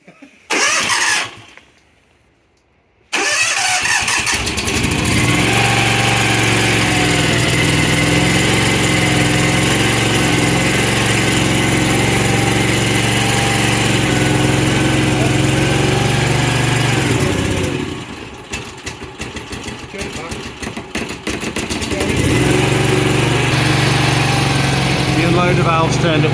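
Small petrol engine on a pressure washer fitted in a van runs steadily and loud for most of the stretch, starting after a brief lull and dipping briefly near the end before settling back to a constant drone.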